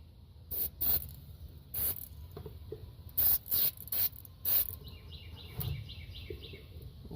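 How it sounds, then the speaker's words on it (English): NOCO battery cleaner acid detector is sprayed onto battery cables and connections in short bursts of close hissing, separated by pauses, with faint bird chirps in the background. "I'm gonna spray the cables and connections down real quick with this stuff here, this NOCO battery cleaner acid detector"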